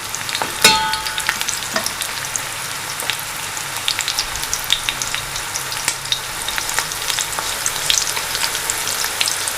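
Onions fry in a pan for beef paya, giving a steady close sizzle with scattered crackles and a sharp clink near the start, and no voices.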